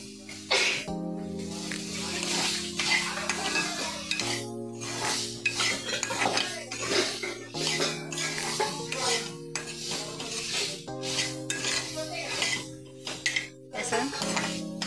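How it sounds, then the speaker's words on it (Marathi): Spatula stirring and sautéing a potato and pea curry (aloo matar) in a pan, with repeated scraping and light clinks against the metal over steady background music. "असं एकसारखं त्याला परतून घ्यायचं बरं का."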